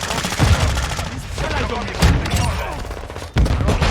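Rapid bursts of shotgun fire in Call of Duty: Modern Warfare II, several loud shots in quick succession with sharp booming hits over continuous game noise.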